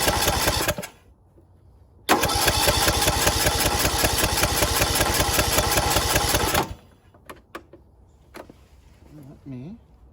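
A John Deere LA110 lawn tractor with a 19.5 hp Briggs engine, just fitted with an aftermarket carburetor, cranks and catches into a loud steady run for several seconds before cutting out, leaving quieter clicks and a faint voice.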